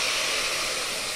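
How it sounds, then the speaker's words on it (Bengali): Water poured into polao rice frying in a hot pan gives a steady, loud, broadband sizzling hiss that fills the whole short moment without a break. "এখন আমি পরিমাণ মতো পানি অ্যাড করব"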